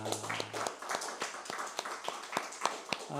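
A short burst of clapping at a church service, many hands at once with sharp irregular claps, fairly close and fading out after a few seconds.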